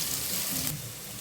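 Hot spiced oil with dried chillies, onion, garlic and asafoetida sizzles steadily as it is poured over haleem, a continuous hiss that eases slightly partway through, close and moderately loud.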